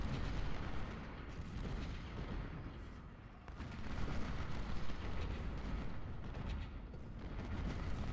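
Continuous battle gunfire and artillery booms from the Civil War strategy game Ultimate General: Civil War, a dense, rumbling barrage of overlapping shots with no pauses, steady and loud throughout.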